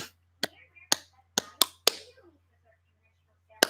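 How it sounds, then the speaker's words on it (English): Sharp hand claps in an irregular series, about six close together, then a pause and one more clap, with a faint steady hum underneath. "That's me clapping my hands under my waist."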